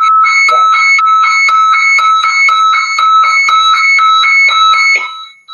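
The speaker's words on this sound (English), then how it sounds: "So the other radio is now beeping very, very loudly." Loud, piercing electronic beeping from a marine VHF radio, rapid repeated tones in a fast stuttering rhythm that stop abruptly after about five seconds.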